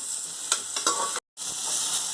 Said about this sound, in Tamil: இந்த லெட்யூஸ் மட்டும் அதில் போட்டு நல்லா கொஞ்சம் வதக்கிப்பேன்